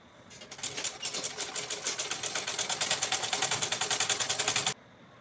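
Domestic sewing machine stitching lace onto a dress, a fast close rattling run that speeds up into an even mechanical chatter for about four seconds, then stops abruptly.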